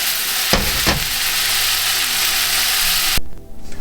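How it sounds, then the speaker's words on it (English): Beef browning with softened onions in a hot pan for a steak and vegetable pie, a loud continuous sizzle with brief stirring bursts early on, then a sudden drop near the end as the pan quiets. "now the onions have softened, we'll put our beef in and we'll just brown that"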